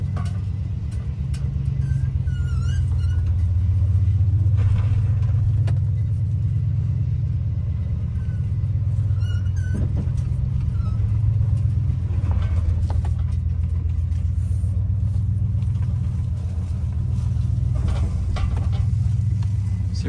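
A 1959 Chevy Biscayne rumbles steadily as it drives slowly over an unpaved road, a continuous low, loud engine drone with no talking.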